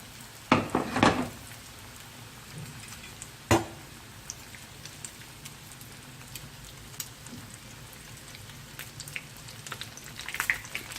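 Breadcrumbed fish fingers shallow-fry in a little oil over low heat, with a soft steady sizzle, a few clinks of a utensil against the pan near the start and middle, and light crackles and pops throughout.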